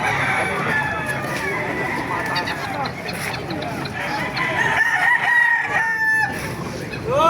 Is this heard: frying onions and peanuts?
no